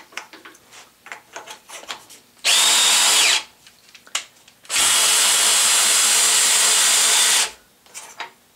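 A power drill spins a big one-and-a-quarter-inch socket in two loud, steady whining runs, the first short and the second longer, with clicks and handling noises between and around them.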